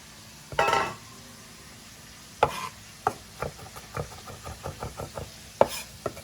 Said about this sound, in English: we're just gonna chop this up really fine